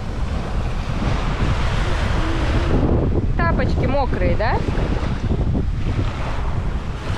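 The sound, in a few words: sea waves on a beach at sunset in Thailand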